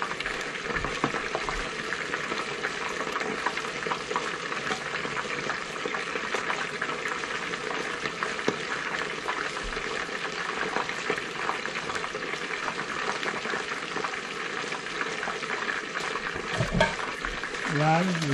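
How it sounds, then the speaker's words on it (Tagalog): Chicken wings deep-frying in hot oil make a dense, continuous crackling sizzle that stays loud and even from start to finish, with no voices. "Prito natin siya ng 15 minutes."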